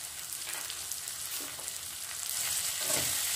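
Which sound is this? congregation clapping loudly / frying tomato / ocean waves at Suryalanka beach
frying tomato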